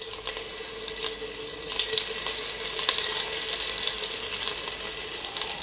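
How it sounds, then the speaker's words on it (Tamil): Masala-coated paneer frying in ghee, a steady bright sizzle throughout with faint occasional clinks, close and alone without any talk. "மசாலா மிக்ஸ் பண்ணி வச்சுருக்க பன்னீரை வந்து இதில் ஃப்ரை பண்ணி எடுத்துப்போம்"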